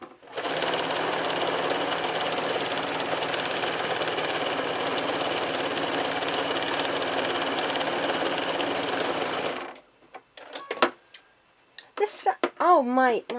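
A sewing machine hums steadily for about nine seconds while stitching the raw edges of a quilted oven glove, then stops abruptly. A voice speaks afterward.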